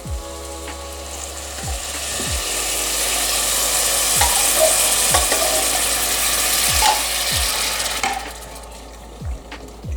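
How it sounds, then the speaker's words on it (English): Coconut milk added to a sizzling pan of vegan katsu curry and stirred: loud, steady frying hiss close up, with soft periodic knocks of a spoon against the pan that fade as the sizzle dies down. "So now we want to add 300 millilitres of coconut milk."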